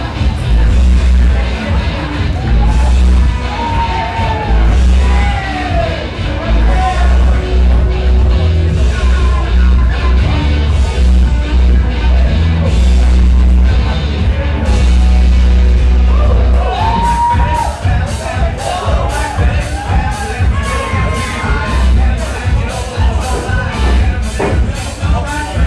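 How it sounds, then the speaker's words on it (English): Wrestling arena crowd at Fighting Spear Wrestling cheering and whooping for wrestler Suntan's entrance, a loud sustained roar of voices with shouts and bursts throughout, an announcer talking over it. "And the crowd reacting, of course, favorably to Mr. Suntan"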